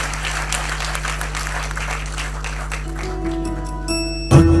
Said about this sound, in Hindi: जोरदार तालियां इन बच्चियों के लिए